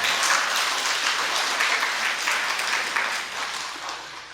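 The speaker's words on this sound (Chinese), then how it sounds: "很多人脸一红开始鼓掌" Audience applause fills the room as a dense, steady wash of many hands clapping at moderate volume, easing slightly toward the end, with no voices standing out.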